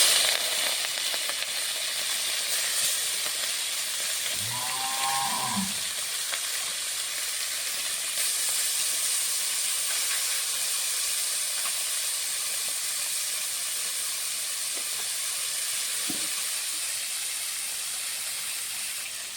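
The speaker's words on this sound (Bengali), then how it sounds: "কড়াতে মাছ ভাজার জন্য তেল দিয়ে দিয়েছি" Oil heating in a wok for frying small fish gives a steady, loud hiss throughout, with one brief clattering knock near the middle.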